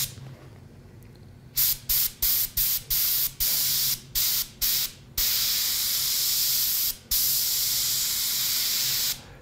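A spray gun applies paint to a latex mask in a rapid run of short, sharp hissing bursts, then a long, steady close spray broken by one brief pause.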